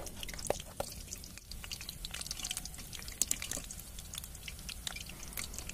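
Grated sitabhog dough frying in hot oil, a steady crackling sizzle with scattered pops and bubbling spits throughout, close and continuous with no voices.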